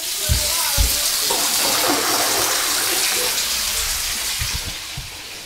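Water gushes steadily from an opened toilet tap fed by a Grundfos Scala2 pumping station, a close, continuous rushing hiss with a few low thumps and knocks in the plumbing.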